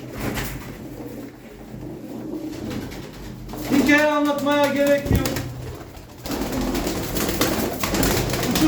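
Pigeons coo in a short burst of rhythmic, warbling calls under and between a voice in Turkish, with steady background noise throughout.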